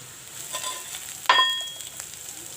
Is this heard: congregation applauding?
no